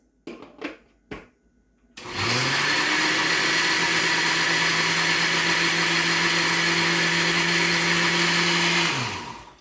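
Kitchen blender whizzing garlic pesto: a few clattering bumps of setting the jar on, then a loud, steady high-pitched motor whir for about seven seconds before it winds down.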